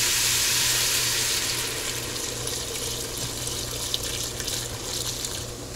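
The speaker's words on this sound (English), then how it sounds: "And now we've got our IPA and our pale ale, and we're gonna pour them both." IPA and pale ale beer being poured into a hot pot for beef stew on high heat, a steady hissing, fizzing pour that is loudest at first and then settles into a softer continuous sizzle.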